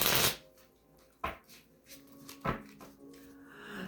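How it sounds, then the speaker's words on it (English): Tarot cards being shuffled by hand in a quiet room, giving a few soft riffling and tapping bursts, with one near the start and sharper snaps around the middle, close and fairly faint. "I did shuffle these a little bit."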